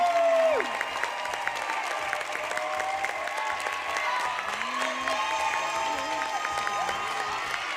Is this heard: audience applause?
yes